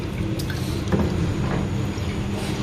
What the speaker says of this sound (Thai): น้ำระบายมาดีนะฮะ ไม่รั่วนะครับ